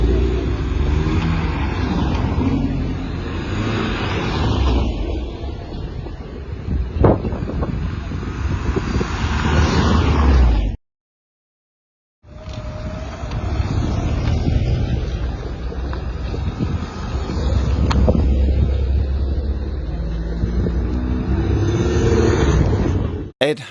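Porsche 924 sports cars traveling together in a convoy along winding country roads, with steady broadband road and wind noise from a moving car, briefly cutting out midway before resuming.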